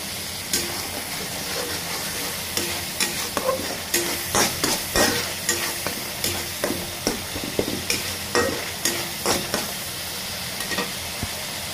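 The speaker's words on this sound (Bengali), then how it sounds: "এখন মশলাটা ভালোভাবে কষিয়ে নেব।" A turmeric, chili and salt spice paste stir-fried in a pan for a Bengali prawn and Malabar spinach dish, with steady sizzling hiss and regular scraping stirs of the spatula, close and continuous without talk.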